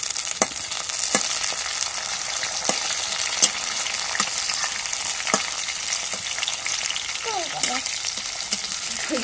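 Bay leaves fry in hot oil in a pot for a beef curry, a steady bright crackling sizzle with occasional soft clicks and taps, a voice murmuring briefly near the end.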